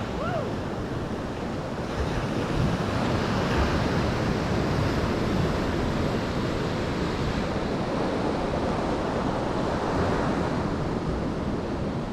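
Ocean surf breaking on the shore at Treasure Beach in St. Elizabeth, Jamaica: a continuous loud wash of waves with wind buffeting the microphone throughout.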